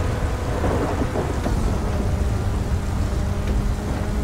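Heavy rain with a low thunder rumble during a GTA Online race in a Coquette D10, a loud, dense wash of sound that holds steady with no talking.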